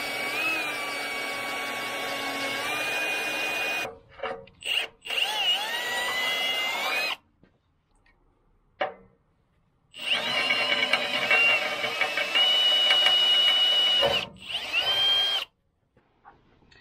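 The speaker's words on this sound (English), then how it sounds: "So I'm gonna drill all of them out to 1/4 inch" A power drill whines in several bursts of varying length, drilling holes out to 1/4 inch in a PTO leaf blower, revving up and cutting off with short pauses and quieter gaps between runs.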